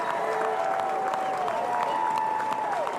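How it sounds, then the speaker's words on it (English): Golf gallery at the final hole of a course, steady dense applause from a sizeable crowd throughout, with a whistle-like tone sliding over the clapping. "the crowd here at College Park is appreciative"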